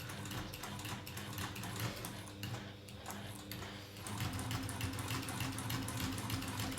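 A sewing machine runs continuously, stitching quilting lines into bag fabric, with a fast steady needle chatter at moderate distance and a slight change in pace partway through.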